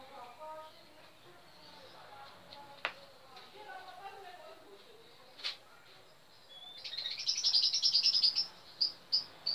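A prenjak (prinia) bird gives sharp, high, repeated chirps in quick bursts near the end. Quieter scattered calls and a voice come before them.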